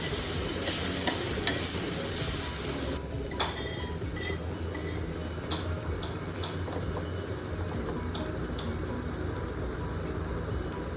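Ginger garlic paste and spices for an egg masala curry fry loudly in a pan, a dense continuous sizzle with scattered metallic clinks and scrapes as a spoon stirs, up close with no speech.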